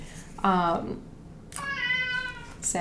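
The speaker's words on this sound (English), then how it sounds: "we got some meows of confirmation there" A cat meows twice nearby, a short call followed by a longer drawn-out meow, with a hint of a third starting at the end; no one speaks.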